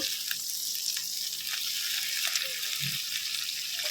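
Shrimp for fried rice frying in a pan, a steady soft sizzle with faint scrapes of a spatula and one low knock, close but quiet.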